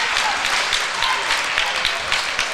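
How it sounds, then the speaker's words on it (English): Puxico fans clapping for their basketball team at a high school Christmas tournament game, loud, dense gym applause with some rhythmic accents and faint crowd voices underneath. "I just heard this Puxico crowd start clapping their team on"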